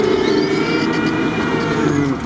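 An old VAZ Kopeyka car drives off-road with a steady, loud engine drone and rumble heard from close up, holding an even pitch throughout the short stretch.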